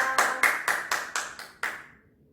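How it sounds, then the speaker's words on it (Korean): Clapping in rhythm from a congregation during a church youth service, about seven even claps at a steady beat, fairly close and fading out at the end. "하나님께 감사와 영광의 박수 드리겠습니다"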